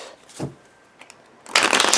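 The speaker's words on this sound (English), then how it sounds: "shuffling." A short burst of tarot cards riffling quickly, preceded by a few soft taps and rustles.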